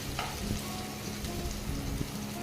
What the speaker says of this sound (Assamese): আলুখিনি আমি অলপ দেৰিলৈকে লৰাই থাকিম, যেতিয়ালৈকে আলুখিনি নিসিজে।